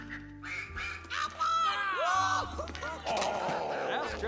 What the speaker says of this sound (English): Let me have a duck.